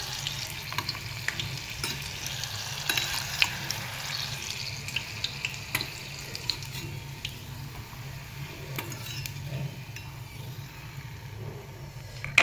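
Chillies sizzle steadily in hot oil in a home kitchen, a continuous close frying hiss with occasional stirring clicks and a few light clatters throughout.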